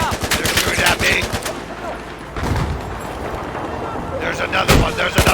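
Gunfire in the Battlefield 4 video game: rapid automatic bursts crackle steadily, then a pause, then more shots and a loud boom near the end, with a player talking over the action.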